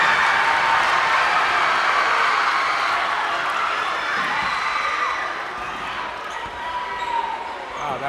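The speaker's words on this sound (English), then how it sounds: "That brought the crowd to its feet." A crowd at a seniors-versus-faculty school basketball game roars and cheers steadily after a putback, a loud sustained wash of voices that slowly eases, with an announcer talking over it.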